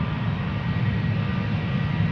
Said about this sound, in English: now spooling up Georgian Airways to Tbilisi